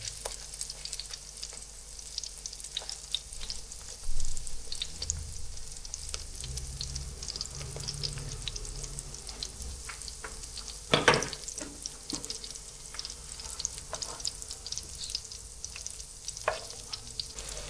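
Tiny shrimp (kolim) vadas fry in hot oil over a medium gas flame, a steady close sizzle with occasional louder pops and a few brief clinks, no talk.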